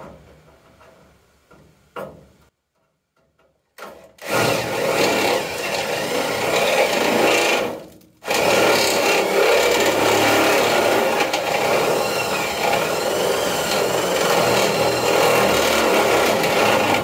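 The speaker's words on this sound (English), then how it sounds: "So we're going to go ahead and use a hole saw again" A hole saw or step drill cuts a clearance hole through a car hood, with short bursts after a near-silent pause, then long sustained grinding runs broken by one brief stop.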